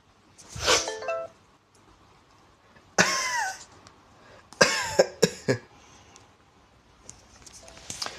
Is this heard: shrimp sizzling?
no